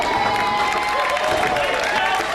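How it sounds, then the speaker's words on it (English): Loud, dense crowd cheering and applause fill an indoor arena at a professional ten-pin bowling match, with shouts rising continuously under a commentator's voice. "that is his fiancée leading the cheers somewhere in this crowd"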